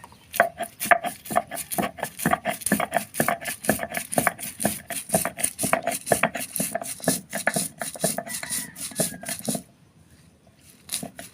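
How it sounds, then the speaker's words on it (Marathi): Whole spices and coriander seeds are ground into masala on a traditional stone slab, giving rapid, rhythmic scraping strokes, loud and close, that run steadily and then stop near the end. "तर हा मसाला पाट्यावर वाटून घ्यायचा आहे"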